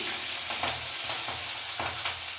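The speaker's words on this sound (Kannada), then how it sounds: "ಈಗ ಸ್ವಲ್ಪ ಸಾಸಿವೆ ಜೀರಿಗೆ ಎಲ್ಲನೂ ಒಗ್ಗರಣೆ ಮಾಡ್ತಾ ಇದ್ದೀನಿ" Hot oil crackling and sizzling as mustard and cumin seeds splutter in a pan, with a few soft stirring scrapes.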